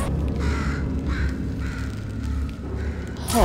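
A crow-like bird in the game Portal 2 caws several times in harsh, evenly spaced calls over a low rumbling background, fairly clear and close, with a brief swooping sound at the end.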